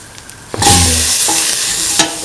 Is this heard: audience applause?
no